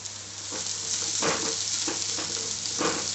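Onions and curry leaves fry in hot oil for a soya meal maker cutlet, a continuous loud sizzle broken by several stirring scrapes at irregular intervals.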